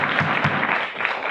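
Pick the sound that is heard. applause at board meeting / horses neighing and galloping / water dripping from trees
applause at board meeting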